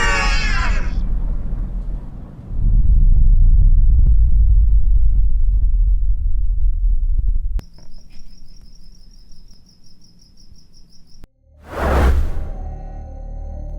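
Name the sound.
crickets chirping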